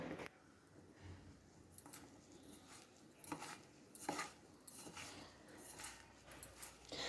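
Masala and flour being mixed in a bowl, heard as faint, irregular scraping, tapping and clinking of a utensil against the bowl, quiet and close.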